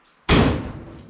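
A car's passenger-side door, freshly refitted during a body restoration, shuts with a single solid slam followed by a short fading rumble.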